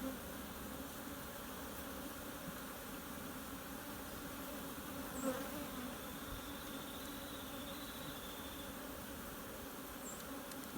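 A dense, steady hum of many honeybees buzzing close by in a queenless hive, continuous and even throughout, with no talking.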